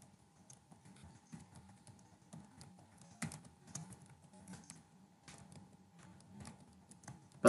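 Someone types steadily on a computer keyboard, with light clustered key taps and occasional sharper strikes in an irregular rhythm, close by in a quiet room.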